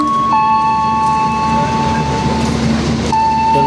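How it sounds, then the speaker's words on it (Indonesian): Progo passenger train with a stainless steel new generation economy trainset rolling into Kutoarjo station, a loud, close steady rumble with sustained tonal whine and squeal lines, continuous throughout. "Dan inilah kereta api Progo masuk stasiun Kutoarjo."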